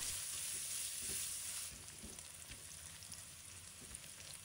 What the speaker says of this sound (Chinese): 接着将姜蒜末放入锅中，继续煸炒几下，